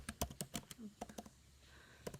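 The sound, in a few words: typing on computer keyboard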